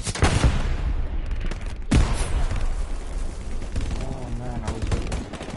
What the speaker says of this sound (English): MG's getting you, guys.